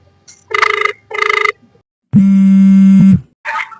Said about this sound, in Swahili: Pokea simu.